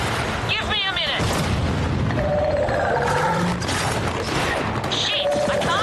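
Airstrike blast in the Resident Evil game, a heavy booming explosion with rumbling crashes spread across the stretch, mixed with game noise and voices.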